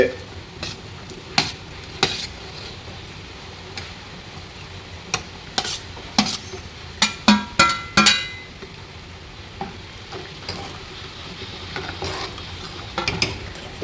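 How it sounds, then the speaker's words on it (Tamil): A pot of fish curry bubbles and sizzles on the stove while a utensil stirs and clinks against the pot in scattered knocks. "குழம்பு நல்லா கொதிக்குது"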